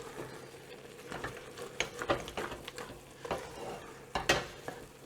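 Cornbread sausage stuffing with Hatch green chile gets stirred in a pan over a flame, a spoon scraping and clinking in scattered bursts over a faint steady sizzle, close and fairly quiet.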